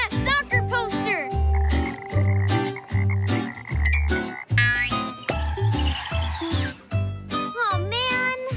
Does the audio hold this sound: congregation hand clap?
no